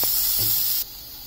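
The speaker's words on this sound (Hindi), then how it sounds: "अनियन डालेंगे और इसको अच्छे से भूनेंगे।" Onions frying in a pan for a vegetarian soya keema, a steady broadband sizzling hiss that runs loud for most of the clip, then drops to a quieter, even sizzle near the end.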